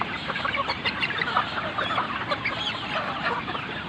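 Young native chickens about two months old cluck and chatter together in a busy, continuous flock, heard close and fairly loud.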